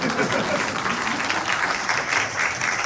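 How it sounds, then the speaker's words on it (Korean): Talk show audience bursting into dense, sustained applause, many hands clapping evenly at close range for a few seconds, loud and unbroken. "박수 한 번."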